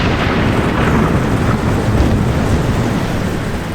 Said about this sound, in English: The sound of the storm will cover our first attack?